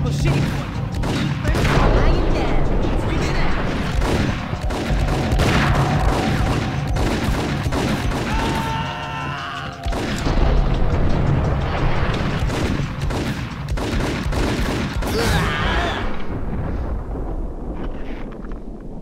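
Gunfire in the Max Payne video game, loud dense bursts of shots and booms packed together almost continuously, with a short lull in the middle before the shooting resumes.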